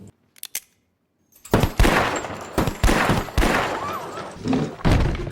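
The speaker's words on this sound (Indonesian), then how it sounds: "hingga mengenai pistol tersebut dan akhirnya membuat pistol tersebut kembali ke tuannya dan seketika itu juga membunuh Joe." Gunfire in a Western film bar scene: after a brief quiet stretch with a few soft knocks, a rapid series of loud, sharp shots and impacts bursts out close by, irregularly spaced over several seconds.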